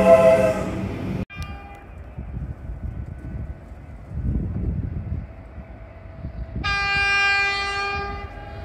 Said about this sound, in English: This is what the old horn used to look like, and the new current one.